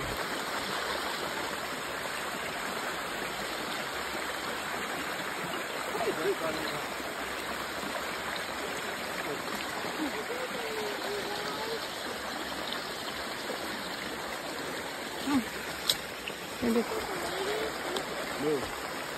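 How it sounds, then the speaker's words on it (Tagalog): A flowing stream makes a steady, broad rush of water throughout, with voices faintly audible under it. "ikaduhang sapa"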